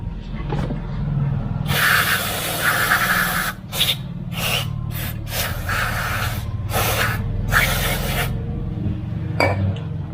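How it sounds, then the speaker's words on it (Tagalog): Brake cleaner sprayed onto a motorcycle rear brake in several loud hissing bursts of varying length, close by, with brief pauses between them over a low background hum. "Pero bughan muna natin to ng brake cleaner."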